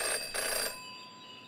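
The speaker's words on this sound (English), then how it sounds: "Jenny had learned never to ignore a ringing phone" A telephone ringing in the detective video game Jenny LeClue, one short electronic bell burst followed by a ringing tail that fades out, heard alone.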